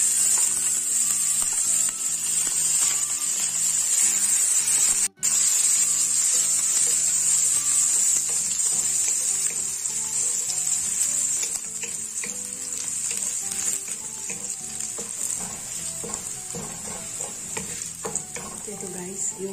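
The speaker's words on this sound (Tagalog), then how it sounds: "Mainit na yung kawali natin. Ayan, ilalagay na natin yung bawang." Garlic frying in hot oil in a pan for crabs with oyster sauce sizzles with a steady, bright hiss, punctuated by stirring clatter of a utensil against the pan, continuous and close.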